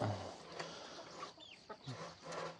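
Chickens cluck softly and intermittently nearby, with a few short chirpy calls scattered among low background noise.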